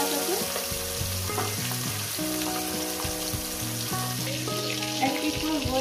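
Pieces of parshe fish fry in hot oil with a steady, dense sizzle and crackle, joined by intermittent low tonal clatter from the pan throughout.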